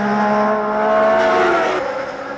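Formula 1 race cars from the 1979 season scream past, a loud high-revving engine note with strong harmonic tones that shift in pitch as a car passes close by.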